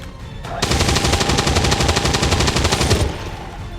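Rapid automatic gunfire from the XCOM 2 strategy game, a dense sustained burst lasting about two and a half seconds, loud and continuous, then cutting off abruptly.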